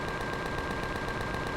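Rapid, unbroken Gatling cannon fire in the space-survival video game Empyrion Galactic Survival, a dense loud mechanical rattle of rounds at a fast steady rate.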